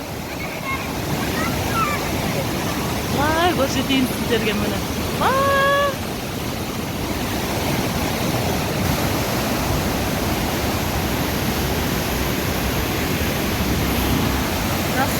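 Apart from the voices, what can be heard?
strong rushing water current in a mountain stream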